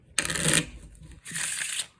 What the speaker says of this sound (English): you'll have your spectator shuffle the cards just to prove that you're not doing anything funny